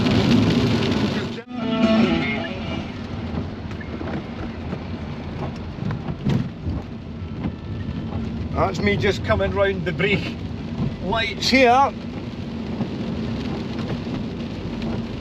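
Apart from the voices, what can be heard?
torrential rain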